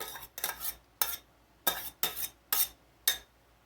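A spoon stirs vegetables into a pot pie filling, making six separate scraping strokes against the pot at an uneven rhythm, close and clear with no talking.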